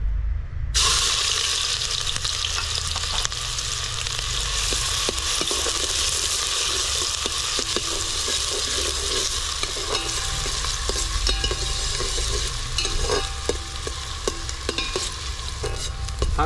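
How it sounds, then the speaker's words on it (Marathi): Chopped onion hitting hot oil for a wood-fired mutton curry, a loud steady sizzle and crackle of frying that runs continuously, with occasional stirring clinks and no talking. "तेल तापलेलं आहे त्यात आपण हा चिरलेला कांदा टाकूया"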